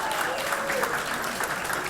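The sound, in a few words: applause from a gala audience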